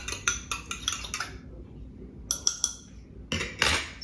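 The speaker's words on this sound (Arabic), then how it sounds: "خلط هاد البيضه مزيان صافي الفرشيطه، هاكا تخلط مزيان" A fork whisks eggs in a bowl for a Moroccan flourless cookie dough, giving quick bursts of bright metallic clinks against the bowl that pause and start again, close up with no talking.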